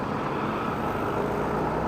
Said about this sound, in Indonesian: Tapi ini benar-benar banyak kendaraan guys.